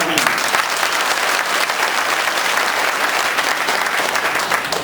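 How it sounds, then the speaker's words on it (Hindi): Audience applause welcoming a guest at a district conference in Shahjahanpur, a dense, continuous wash of many hands clapping, loud and close, sustained evenly throughout without any talking. "आप हजरात एक बार पूरी गर्मजोशी के साथ उनके इस्तकबाल में तालियां बजाकर खैर मकदम"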